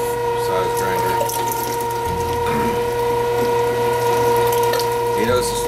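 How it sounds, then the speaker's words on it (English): A number 5 size meat grinder runs steadily while grinding lean venison for jerky, a continuous loud mechanical drone with a constant tonal hum and irregular rattling and clicking throughout. "This is the number 5 size grinder."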